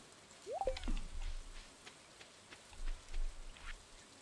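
Soft rain patters in the Stardew Valley farming game, a faint steady drizzle with scattered drips, joined by a brief chirpy game sound and low muffled thumps.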